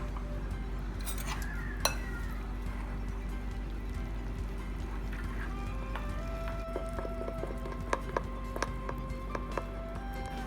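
A spoon stirring bajji batter of flour, salt and water in a bowl for brinjal bajji, faint scraping with light clinks and taps against the bowl, sparse and quiet over a steady background hum.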